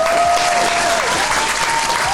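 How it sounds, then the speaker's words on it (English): Loud, dense applause and crowd noise greeting the guest Diamond the Body at an interview in Miami, continuous and close throughout the short burst. "A round of applause for Diamond the Body."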